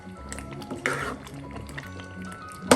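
Creamy handi chicken curry gravy with fresh coriander leaves is stirred in a pan, giving soft, wet squishing and light dripping sounds close by, with a sharper clink at the end.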